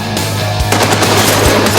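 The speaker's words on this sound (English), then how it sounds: "It spits out 500 rounds a minute." Rapid machine gun fire rated at about 500 rounds a minute, a loud continuous close-range burst with a dense rattling texture and a few heavier thumps, no voices.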